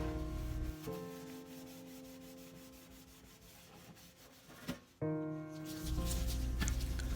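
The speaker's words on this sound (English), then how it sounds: "So I do scrub them down with the SOS pad" Metal baking tins being scrubbed with a soapy SOS steel-wool pad to remove oily, sticky residue, giving a steady close rubbing scrape with a brief louder scuff near the end.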